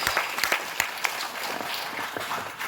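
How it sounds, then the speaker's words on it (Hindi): An audience at an RCM business meeting class applauds, with several sharp individual claps at the start giving way to a dense, moderately loud round of clapping. "ताली बजाइए"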